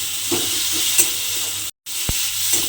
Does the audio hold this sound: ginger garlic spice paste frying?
yes